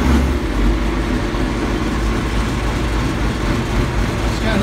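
A newly bought vehicle with a hole in the hood for the exhaust idles with a steady low rumble, close and loud, no clear start-up moment heard.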